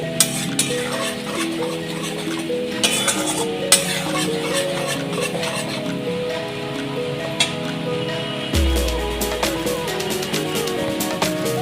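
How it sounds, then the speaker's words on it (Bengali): Spice masala with Kashmiri chilli powder and cumin powder being stirred and sautéed for a paneer dish, with steady scraping and clinking of a spoon in a pan over a soft sizzle, close and continuous. "একটু জিরে গুঁড়ো দেবো, ভালো করে একটু মশলাটা কষিয়ে নেব।"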